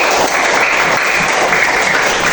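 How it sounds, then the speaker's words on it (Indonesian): A classroom of students applauding a student group, dense continuous clapping that is loud and close, a steady wash of many hands with no voices standing out. "tepuk tangan dulu untuk kelompok Usman"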